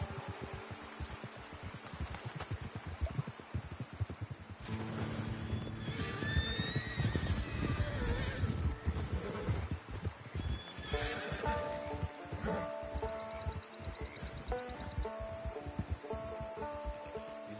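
In the Red Dead Redemption 2 game, a horse whinnies clearly several times while hooves clop and shuffle close by, amid a low steady hum.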